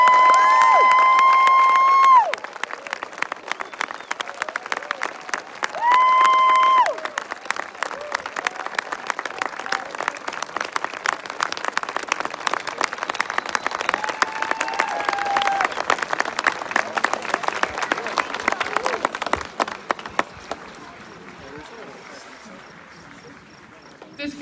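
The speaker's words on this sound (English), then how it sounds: "Let's show them how we feel about them with a round of heartfelt applause." A crowd at the Mt. Rushmore evening lighting ceremony claps in sustained, dense applause that follows a few brief musical tones, then thins and fades near the end.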